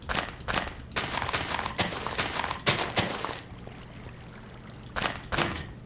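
Items from an automated Minecraft farm dropping into water, heard as a series of soft splashing, trickling bursts in quick clusters, with a pause in the middle before a final short pair of splashes.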